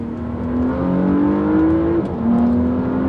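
Porsche Panamera Sport Turismo eHybrid with PDK gearbox accelerating in Sport Plus mode, a loud, close engine note rising steadily in pitch, dipping briefly at a gearshift, then climbing again.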